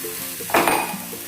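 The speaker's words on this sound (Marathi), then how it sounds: "थोडासा पुन्हा पाणी टाकू आपण" Water splashes into masala frying with kasuri methi for a taro root (arbi) curry, setting off a sudden loud sizzle that hisses briefly and fades against steady pan noise.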